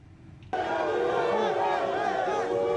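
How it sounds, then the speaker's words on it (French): A crowd in Ramallah boos Canadian foreign minister John Baird, the jeering bursting in suddenly after a quiet moment and holding as a loud, dense wall of voices. "Des huées et même des œufs pour accueillir le ministre canadien des Affaires étrangères"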